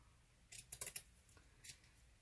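Scissors snip through a paper card booklet in a few quick, close cuts, a cluster of sharp snips followed by one more after a short pause, with no talking.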